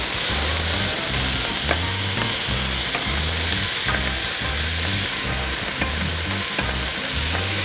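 Cajun cabbage and andouille sausage sizzle loudly in a pan with olive oil, the frying hiss constant while a utensil scrapes and stirs in a steady, repeating rhythm.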